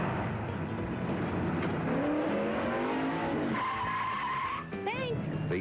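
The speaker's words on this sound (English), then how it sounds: "I start my engine with a powerful Exide NASCAR Select battery" A NASCAR stock car engine revs with rising and falling pitch, alongside tire squeal and skidding, under a voice.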